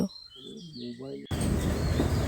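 Birds call in a forest in the Dooars, with a few short, close chirps and whistles before a burst of broad rushing noise takes over.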